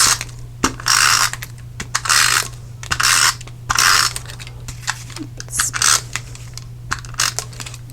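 A Stampin' Up Snail adhesive tape runner is pressed across cardstock in a series of short, crisp ratcheting bursts, about eight separate passes at an uneven pace, close and alone with a faint steady hum underneath.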